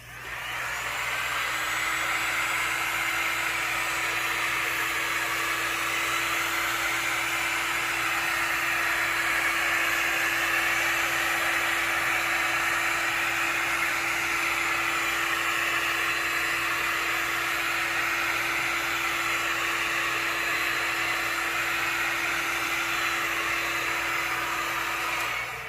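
A hot air tool blows with a loud, constant whooshing roar while heating a plastic mask frame, running steadily and unbroken for about 25 seconds.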